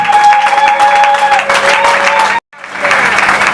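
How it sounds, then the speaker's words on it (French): Loud, sustained applause from a crowd at a women's day memorial ceremony with some cheering voices, cutting off briefly near the end before the clapping resumes. "Acclamons pour la maman présidente"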